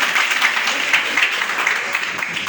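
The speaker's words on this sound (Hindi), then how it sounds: "ताली बजाइए जोरदार वाली।" Audience applause at an RCM business plan seminar, a steady wash of clapping from a crowd sustained evenly throughout, with no voices standing out.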